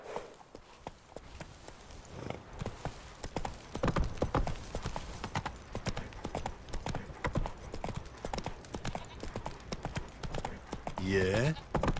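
Horse hooves clip-clop at a steady galloping rhythm in The Witcher 3 during a derby race, close and prominent, with a neigh near the end and game dialogue voices over the hoofbeats.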